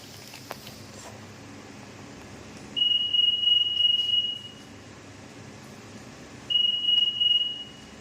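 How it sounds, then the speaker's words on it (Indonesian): A store's electronic article surveillance anti-theft gate sounds two steady high-pitched alarm tones, each lasting over a second, a few seconds apart over a low background hum. "saat keluar gerbang toko, alarm berbunyi kencang"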